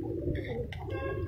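A rooftop flying pigeon from a paired loft coos in short soft bursts, close and clear over a steady low background hum.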